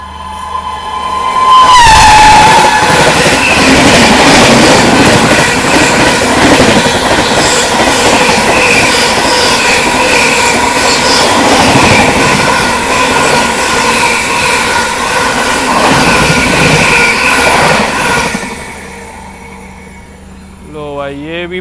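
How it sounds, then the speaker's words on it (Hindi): The Prayagraj Humsafar Express overtakes at about 130 km/h on a parallel track, heard from another train on an Indian railway line. A loud, sustained roar and clatter of wheels follows a brief horn at the start, then fades. "पीछे से ये आ रही है प्रयागराज हमसफर एक्सप्रेस"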